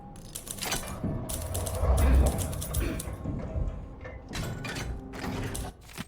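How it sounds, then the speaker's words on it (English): A typewriter in Dishonored: Death of the Outsider clacks in irregular bursts of keystrokes with mechanical carriage clunks, while a voice talks over part of it. "He's typing the story up now."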